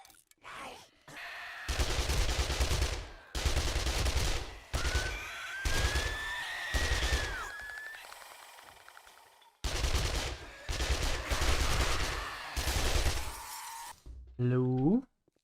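Bursts of rapid submachine gun fire in the zombie survival game 7 Days To Die, several loud automatic volleys separated by short pauses, with a brief talking voice and a squealing sound between them.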